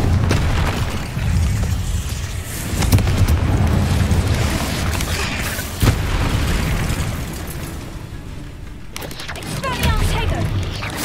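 The Confringo explosive spell goes off in Hogwarts Legacy, with booming blasts bursting over dense game noise while a person talks throughout.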